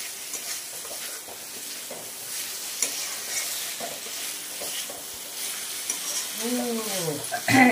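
Fried potatoes being stirred into goat liver in a pan, with a steady sizzle and repeated scraping strokes of a spatula throughout, close and moderately loud, with a brief sliding squeak near the end.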